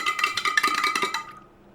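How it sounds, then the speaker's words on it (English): Salt brine being stirred in a jar, a rapid run of close, bright clinking taps of a utensil against glass lasting about a second, then fading to quiet. "All right, let me stir him up."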